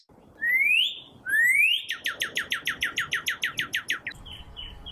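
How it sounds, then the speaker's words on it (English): Clear whistled cardinal song: two rising slurred notes followed by a rapid series of repeated chirps, close and loud against faint background. "I hear cardinals every morning"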